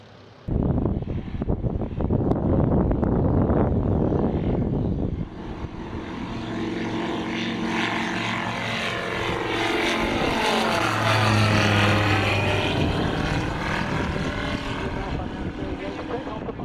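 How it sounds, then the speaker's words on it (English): A light propeller aircraft departs a runway at the Brooklands fly-in. Its engine drone swells to a steady roar, then holds for the rest of the clip. "Hopefully, Ralph is now taking off runway 2."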